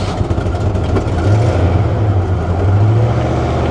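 An old Ford's engine is cranked by its starter, a loud, steady low mechanical churning and rumble that runs unbroken for a few seconds, with no voices over it.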